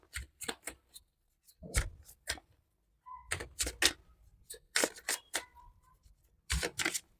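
Tarot cards are shuffled in quick bursts of crisp, papery riffles and flicks, close and clear, with short pauses between groups and no talking.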